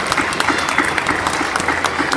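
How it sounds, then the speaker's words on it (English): Young children at a TK–2 school awards assembly applaud their mathematicians of the month, a steady patter of many small hands clapping at moderate volume, with faint voices mixed in. "a big round of applause for our mathematicians"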